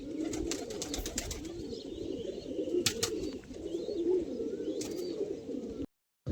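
A flock of pigeons coos steadily in a continuous low murmur while bathing, with light splashing and flutter on top; no voices.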